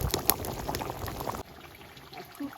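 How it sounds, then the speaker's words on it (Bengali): Mutton curry gravy boiling hard in a pot, a dense bubbling and gurgling that stops abruptly partway through, leaving a quiet background. "ঝোলটা কিন্তু টকবগিয়ে ফুটছে"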